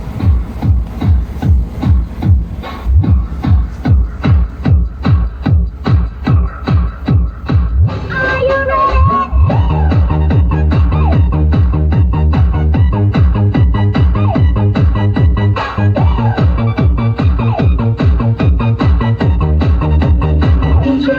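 A homemade TDA2030 driver booster amplifier running on a 48 to 50 volt supply plays loud music: a thumping, pulsing beat at first, then a dense full mix with steady bass and melody, loud and continuous throughout.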